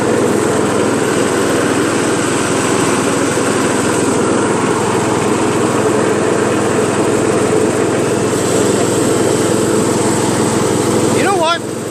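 A Poulan 42-inch lawn tractor with a 14.5 HP Briggs engine running steadily for about twelve seconds, a loud, continuous buzzing drone heard up close, with a voice briefly audible over it near the end.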